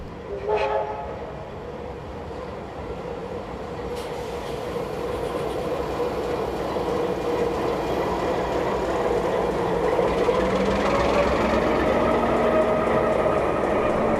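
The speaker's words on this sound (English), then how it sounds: "Meanwhile, 4807 and 3001 pull into the station." Locomotives 4807 and 3001 pull into a New South Wales station with a steady, loud rumble of engines and rolling stock, a short horn-like blast near the start, then a growing mechanical drone as they draw close.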